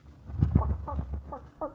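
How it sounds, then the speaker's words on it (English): A plump hen clucks in a short run of close, bright clucks and throaty calls, loud and alone with no voices, like a farmyard sound effect in an old radio crime drama. "That's a chicken. She's a fat one."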